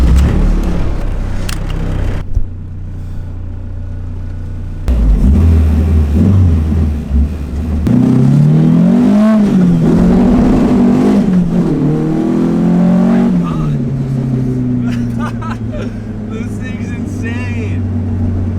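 A Mazda Miata is driven on the road with its engine droning and rising in pitch as it accelerates through gears, loud and close, with a voice talking over it.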